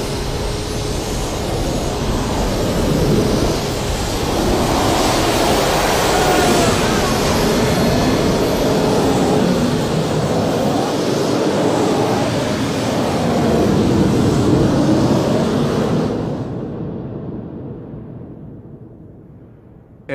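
Big Wind, a firefighting machine fitted with twin MiG-21 jet engines in place of a gun turret and injecting water into the jet stream, blasting at an oil-well fire: a loud, sustained roar that stays steady and then fades sharply near the end.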